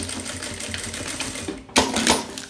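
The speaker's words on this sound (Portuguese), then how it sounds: "Faço o retrocesso, passo aqui a costura" A sewing machine stitches a backstitch seam on a small headphone and charger pouch, a steady rapid mechanical whir that surges louder near the end, with no talking.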